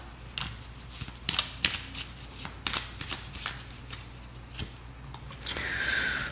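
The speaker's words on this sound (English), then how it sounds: "Let's pull some oracle cards." Deck of oracle cards riffled and shuffled by hand, a series of crisp snapping flicks and papery rustles close up, ending in a longer continuous riffle.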